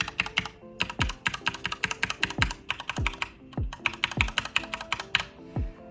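Typing on a Corsair K95 RGB Platinum XT mechanical keyboard, rapid close clicking keystrokes in quick bursts with heavier thumps of the spacebar or larger keys, loud and continuous for several seconds with no talking.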